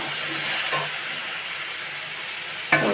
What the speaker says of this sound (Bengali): টমেটোটা দিয়ে দিলাম, একটু দিয়ে নেড়ে নিই।